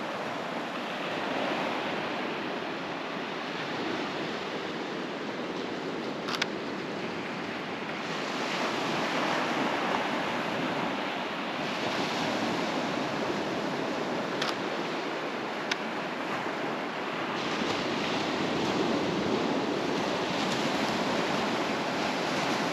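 Ocean surf breaks and washes continuously on Boneyard Beach, a broad steady roar of waves rising and falling gently, with some wind buffeting on the microphone.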